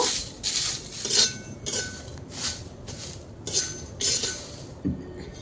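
Onion peels stirred and fried dry in a karai until charred to ash, a spatula scraping and clinking against the metal pan in repeated rhythmic strokes, close and alone without talk.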